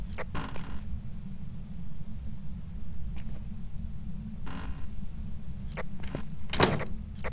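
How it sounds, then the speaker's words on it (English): Door opening or closing inside a school building in the horror game Phasmophobia, a few short creaking, clattering bursts scattered over a steady low background hum, with no voices. "I heard a door again."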